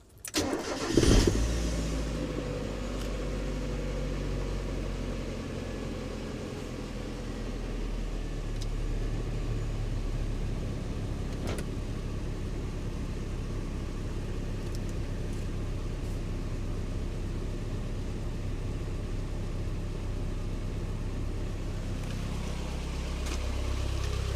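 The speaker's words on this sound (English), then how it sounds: "we're ready to run this engine now" A Mazda MX-5 Mk1 engine cranks and fires with a quick revving burst, then settles into a steady, smooth idle that runs close and continuously for the rest of the stretch, with no talking.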